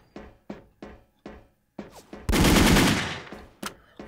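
Gunfire in the online shooter game Wolfteam: several separate sharp shots, then a dense, loud sustained burst of automatic fire, followed by a couple more single shots, with no talk.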